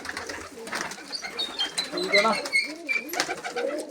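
Domestic pigeons kept by a hobbyist coo softly in low, rolling calls while someone talks over them close by.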